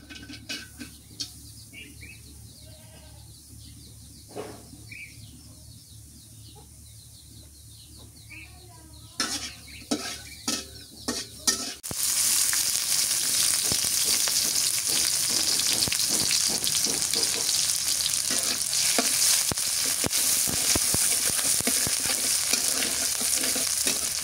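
Onions fry and get stirred in a pan for a fish curry, starting with scattered scraping stirs before a loud, steady sizzle bursts up and continues close by, with occasional spatula scrapes and faint talk.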